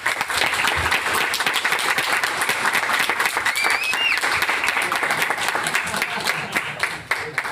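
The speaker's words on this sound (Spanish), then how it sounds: "un aplauso final para la equipo" Sustained, dense applause from an audience closing a session at an acoustics engineering event, loud and steady throughout with many hands clapping at once.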